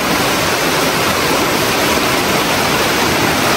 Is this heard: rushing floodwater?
yes